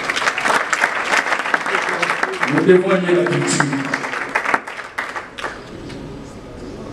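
Audience applause at an award ceremony for best diaspora and Kinshasa artists, steady clapping from a crowd heard under and around a man's amplified speech, fading as the talk trails off.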